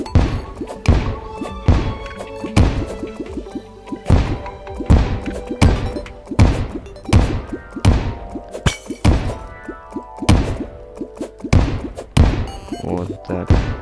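Repeated heavy booming blasts of dynamite in the video game Terraria, roughly one per second, loud and close, with debris-like crackle after each thump.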